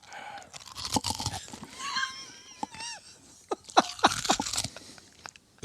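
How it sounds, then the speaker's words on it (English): Close-up crunching and chewing of ice, irregular crisp cracks and grinding bites, with a faint high squeaky sound mixed in. "You're actually chewing ice."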